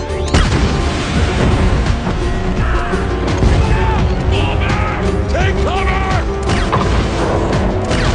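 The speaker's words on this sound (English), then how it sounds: "At the same time, Burns arrived at the base with his soldiers. Not knowing the full picture, they opened fire on Bumblebee." Soldiers opening fire on Bumblebee in a movie scene, loud dense mix of booming impacts, metallic mechanical clanks and crashing over continuous rumble, with brief voice fragments mixed into the action.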